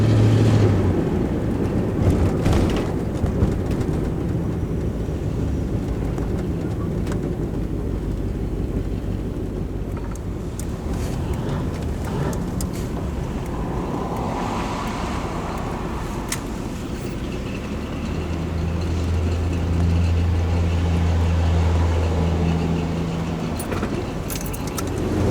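A car cruises west on Interstate 84 in Oregon, giving a continuous road and engine drone with wind and tire noise and a faint rattle, steady throughout with no talking.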